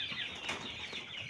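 Broiler chickens flap their wings in a brief, continuous rustling flutter at moderate volume, with no talking over it.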